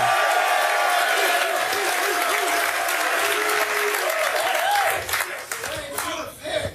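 Studio audience at a sports talk show broadcast from Cleveland applauding and cheering loudly and steadily, a dense wash of clapping that thins out over the last two seconds as voices start to emerge.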